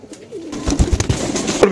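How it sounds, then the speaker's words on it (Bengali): Soft, low coos of a pair of Giachulli pigeons sound close by, a few rounded calls blending with rustling movement and faint background noise. "কবুতর দুইটা কিরকম হয়েছে সবাই বলবেন"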